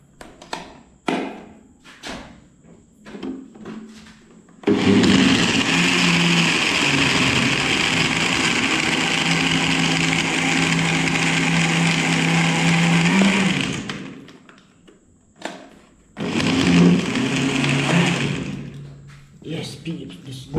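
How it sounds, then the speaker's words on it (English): An electric blender crushes ice into homemade juice, whirring loudly for about nine seconds, then giving a second shorter burst, with knocks and thumps of handling before, between and after. "I'm going to throw some ice in it. Yes. I'll make the blender"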